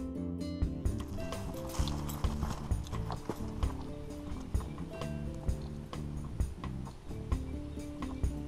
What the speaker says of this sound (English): Look at the pretty horsies.